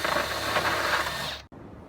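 A screwdriver drives screws into a shed door latch, giving a close, steady ratcheting whir for over a second that stops abruptly, followed by a faint quiet tail.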